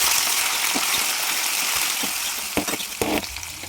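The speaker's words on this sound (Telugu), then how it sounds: "ఈ విధంగా పప్పు రెడ్ కలర్లోకి వచ్చే వరకు వేగనివ్వాలి" Dal lentils frying in a pan, a broad steady hiss with occasional louder pops and clacks of stirring toward the end, close and fairly loud.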